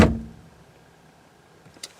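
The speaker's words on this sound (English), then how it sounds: "Now shutting the door." A door on a 2012 Ram 2500 pickup truck slams shut with one loud, close thud that fades quickly, and a faint short click follows near the end.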